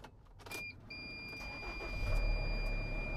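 A Sprinter van engine cranks and catches, with the chime of door or warning tones, then settles into a steady idle that grows louder and deeper toward the end.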